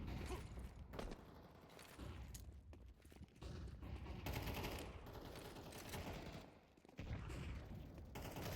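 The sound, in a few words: grenade explosion and gunfire in a video game (Counter-Strike)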